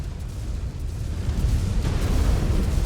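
An explosion in the mech combat game Mechwarrior 5: Clans during heavy city fighting booms into a sustained low rumble that grows heavier and rolls on steadily, with no voices over it.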